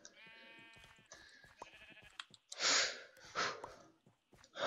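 Sheep bleat in the video game Sheep Quest, several wavering, harmonic baas in a row, followed by louder breathy noise bursts, fairly quiet overall with no speech.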